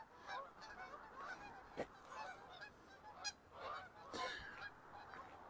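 Geese flying in a V formation over a lake in Regina in December honk repeatedly in overlapping calls, distant and fairly faint against a quiet outdoor background.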